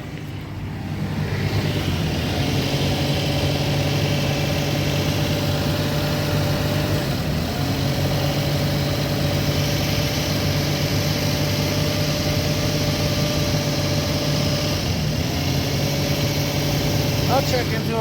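A worked-over Suzuki Grand Vitara engine idles steadily and close by, a low, even drone with a constant hum that holds for the whole stretch, and someone speaks briefly over it.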